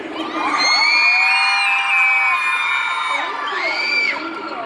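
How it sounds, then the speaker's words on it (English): A crowd at a Hmong New Year dance event in Milwaukee screams, whoops and cheers loudly in a sustained burst of high, shrill voices with children among them, swelling again briefly near the end. "can I hear you guys scream one more time?"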